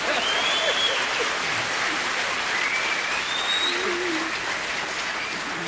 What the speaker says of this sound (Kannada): ಚಪ್ಪಾಳೆ ಜೋರಾಗಿ ಹೊಡೀರಿ.